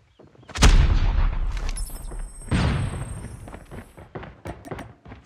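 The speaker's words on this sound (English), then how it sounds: "Friendly airstrike incoming." Two heavy airstrike blasts detonate in a Call of Duty Mobile match, each a loud booming explosion with a rumbling tail, with scattered gunfire crackling between and after them.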